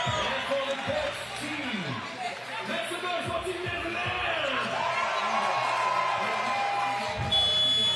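Crowd at a FIBA 3x3 women's basketball final in Debrecen, steady whoops and cheering beneath a commentator's voice, with sneaker squeaks and a brief buzzer-like tone.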